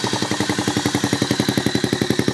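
A homemade four-stroke engine runs just below steady idle, firing in a quick, even train of loud clattering pulses, close up, with no talk.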